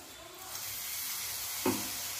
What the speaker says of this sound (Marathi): याच मिक्सरच्या भांड्यामध्ये मी पाणी घेतलेलं आहे ते टाकूया।